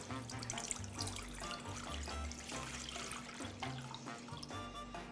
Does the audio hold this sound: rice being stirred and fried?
no